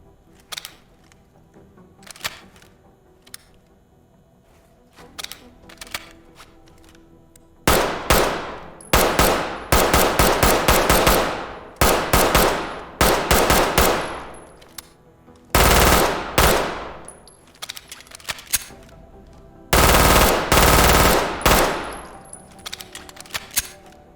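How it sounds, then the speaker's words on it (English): Bursts of SPC-9 submachine gun fire in the tactical shooter Ready or Not: quiet single clicks early, then several loud rapid-fire volleys separated by pauses, alone with no talking. "we've got the SPC-9, which is another submachine gun to add to the edition."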